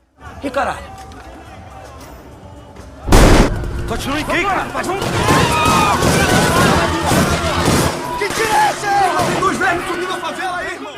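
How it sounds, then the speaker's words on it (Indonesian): A sudden loud gunshot bursts out in the film Elite Squad (2007), followed by a chaotic stretch of shouting crowd voices and scattered further bangs, close and busy throughout. "Disusul suara tembakan"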